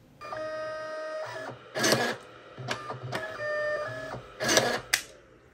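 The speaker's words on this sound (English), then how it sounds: "Tap print again to print the labels." A Brother QL-1110 label printer prints QR and barcode labels with whirring feed-motor runs and sharper mechanical bursts, repeating in several cycles close by.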